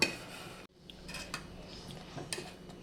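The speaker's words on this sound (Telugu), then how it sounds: "మళ్ళీ బాగా కలుపుతున్నాను." Mango whole-wheat faluda mixture stirred in a pot, with light clinks and taps of a utensil against metal and a brief gap of near silence early on.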